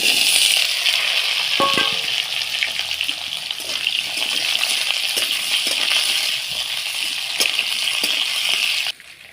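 Nigella seeds and potatoes hit hot oil and sizzle loudly, a dense crackling hiss that holds steady for several seconds before cutting off abruptly near the end, with faint clatter of stirring.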